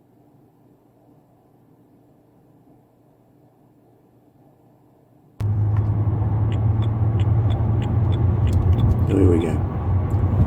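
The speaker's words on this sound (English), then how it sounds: "In the car, we're getting up to speed on the motorway" A BMW Z4 E89 on a motorway test drive, cabin quiet at first, then a sudden loud, steady road and engine rumble as it gets up to speed, with someone talking over it.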